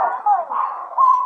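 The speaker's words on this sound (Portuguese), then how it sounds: "Os cachorros estão sendo atacados por um cachorro grande." Dogs barking and yelping while attacked by a big dog at night, a continuous strained whining cry close and loud, rising and falling through the moment.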